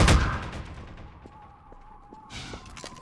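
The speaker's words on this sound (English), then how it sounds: "Oh, I hear gunfire." Gunfire in the video game Half-Life 2 comes as a sharp opening burst, then several faint, spaced shots in a quiet gap, and a louder cluster of shots near the end.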